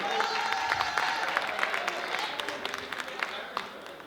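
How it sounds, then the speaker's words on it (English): An audience at a Black Mental Health Week closing ceremony claps for itself, a steady wash of applause with scattered sharper claps and crowd noise filling the whole stretch. "Can you guys give yourselves a round of applause for being here today?"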